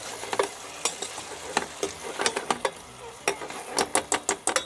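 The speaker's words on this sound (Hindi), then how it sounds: "अब कर देंगे अपन इसको अच्छे से मिक्स" A spoon clinks and scrapes in a bowl as a mix of sauces with vinegar and tomato sauce is stirred, irregular quick taps in bursts, close and fairly crisp with no talk.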